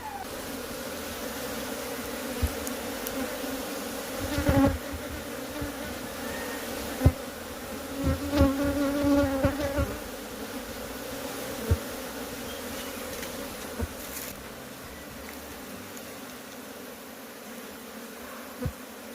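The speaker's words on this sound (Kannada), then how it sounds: "ಎಲ್ಲ ನೊಣಗಳು ಈಗ ಪೆಟ್ಟಿಗೆ ಒಳಗೆ ಹೋಗ್ತವೆ." Honey bees swarming into a wooden bee box, a continuous low buzzing hum with closer passes flaring louder now and then before settling back to a faint steady drone.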